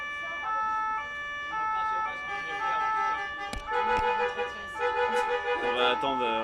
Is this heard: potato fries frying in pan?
no